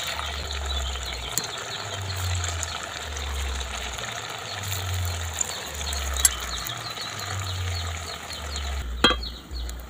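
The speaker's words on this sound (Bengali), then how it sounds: "বাকিগুলো সব ভেজে নিচ্ছি।" Semolina sweet balls deep-fry in hot oil with a soft, continuous bubbling sizzle and occasional clinks of a utensil, accompanied by a low pulsing hum, with no talking.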